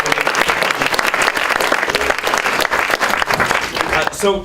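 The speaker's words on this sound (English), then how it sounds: "Let's get a round of applause for him." Audience applause at a sustainability meeting on carbon held at a church, a full burst of clapping for a few seconds that fades out at the end.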